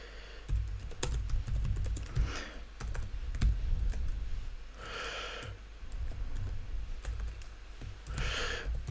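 Steady, fairly quiet clatter of keys on a computer keyboard while an email is typed, with irregular bursts of clicks and brief pauses and no voices.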